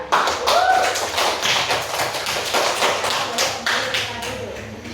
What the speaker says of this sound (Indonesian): Tepuk tangan buat kelompok kita.